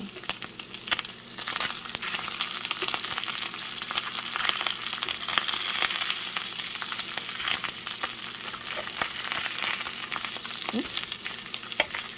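Beef steak frying in coconut oil in a pan, a dense, continuous hissing sizzle with crackling pops, close up and steady for the whole stretch, with occasional faint scraping as the meat is turned.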